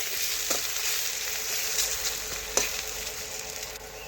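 Potatoes fry in hot oil with salt added, producing a continuous close sizzle punctuated by a few sharp clinks and scrapes as they are stirred.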